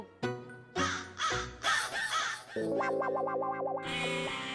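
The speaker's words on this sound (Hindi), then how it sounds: "मुझे कौवा बोल रहा है" A crow caws several times in harsh, close calls, heavily processed with distortion-like effects, followed by a sustained warbling electronic tone in a comedic TV scene; no speech is heard.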